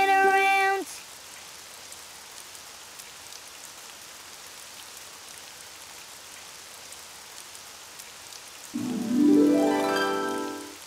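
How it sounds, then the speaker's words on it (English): Steady rain falls continuously, a soft even hiss throughout, with brief tonal sounds at the start and end. "Oh, it's raining outside."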